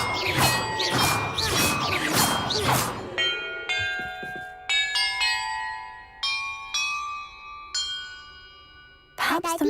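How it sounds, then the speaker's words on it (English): Bells rung one at a time in a bell-order puzzle in the video game Hogwarts Legacy, clear ringing metallic tones with long decays, following a loud clattering, crashing passage at the start. "Perhaps the map contains clues about the order I'm supposed to ring the bells in."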